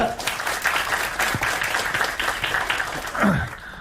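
At a Korean university student forum, the audience gives applause to welcome a student official. The dense clapping is fairly steady and close, then tapers near the end, and a voice briefly sounds over it.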